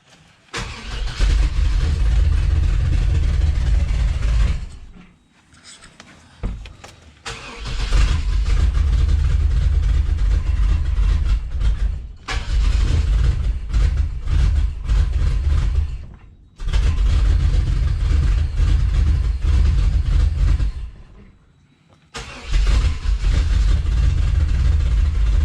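Chevy S10 engine with new fuel injectors, Granatelli plug wires, an upgraded intake and a 3-inch exhaust, cranking and catching repeatedly, running in loud rough bursts with several brief cutouts and restarts, close by, with no talk.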